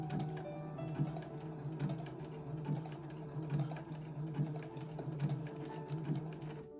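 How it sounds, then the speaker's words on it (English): Sewing machine running in short bursts of stitches while joining crochet granny squares, a steady mechanical whir with regular rhythmic ticks, close and moderately quiet, with no talking. "And then I would go through just a couple stitches. And then I would back stitch."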